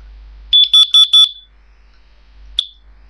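A brand new smoke alarm under test with its horn covered gives four rapid piercing beeps close by, then a pause and one more short chirp, with no talking.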